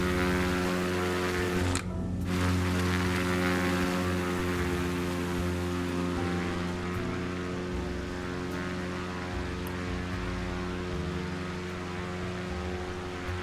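Propeller drone of an X-Cub light airplane in Microsoft Flight Simulator, a steady close engine hum with strong harmonic tones that briefly dips in pitch early on, then holds constant.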